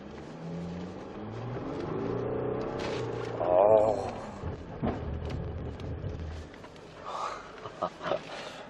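An Audi A6 3.0 TDI quattro diesel rated at 245 horsepower accelerates, heard from inside the cabin as a low engine drone that builds steadily under moderate road noise.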